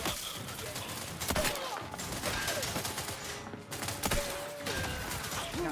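Gunfire erupts in The Outer Worlds 2 during a companion-assisted fight, with bursts of shots and impacts over busy combat noise and a faint voice underneath.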